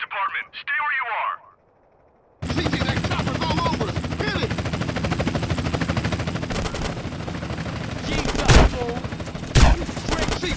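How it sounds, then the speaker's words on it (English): Bursts of gunfire in GTA San Andreas crackle loudly and continuously over a dense game soundscape with a helicopter-like drone, broken by a couple of sharp heavier blasts near the end, after a short voice and a brief silence. "We are taking ground fire."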